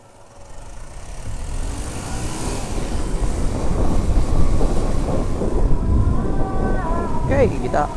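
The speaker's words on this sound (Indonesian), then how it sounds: "Oke, kita panasin dulu motornya" Motorcycle engine idling as it warms up before a night ride, a steady rumbling drone that rises in level after the first second and holds, with faint traffic noise around it.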